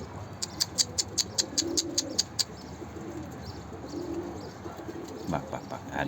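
Male pigeons give low, throaty coos over faint rustling. Quick rhythmic ticking comes early, and soft chirps follow near the end.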